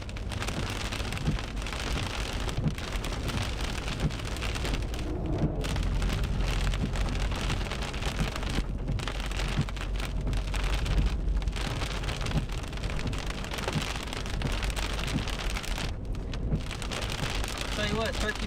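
A steady, heavy rainstorm in East Texas pours onto surfaces, a dense, continuous hiss with low rumbling thunder underneath, and someone talks occasionally over it.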